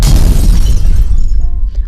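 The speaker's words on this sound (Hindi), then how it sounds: "तभी जंगल में बहुत तेज धमाका होता है।" A single loud blast booms in a forest at the start, then rumbles and fades away.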